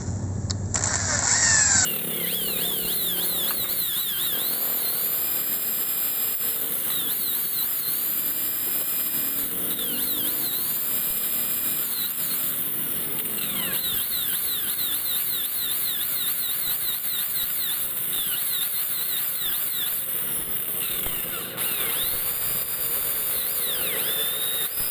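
A power drill grinds into a broken exhaust stud bolt on a Raider 150 motorcycle, a steady high whine with shifting pitch and squeals that runs continuously and close by.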